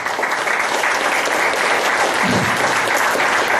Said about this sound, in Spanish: Con un cariñoso aplauso.